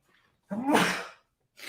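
A single sharp sneeze bursts out close by, loud and breathy, followed by silence before a faint sound resumes at the very end.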